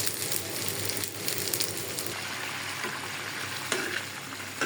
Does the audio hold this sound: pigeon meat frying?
yes